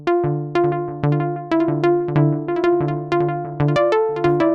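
Synth notes through an Empress Echosystem delay pedal in left-right stereo mode, a steady pulsing pattern of plucked tones with repeating echoes decaying between each attack, clear and close.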